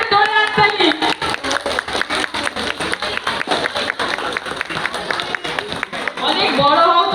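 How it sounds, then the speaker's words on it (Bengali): Audience clapping steadily at a dance competition prize-giving, a dense wash of handclaps throughout with voices speaking over it at the start and end. "সবাই একটু ধরে হাততালি।"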